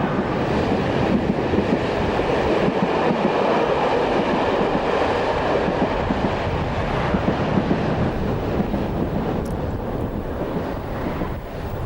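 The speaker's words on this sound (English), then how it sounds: "The train signals our departure again." A steady, loud rumble of a departing Swiss train with continuous rolling noise and wind buffeting, holding constant throughout without any voices.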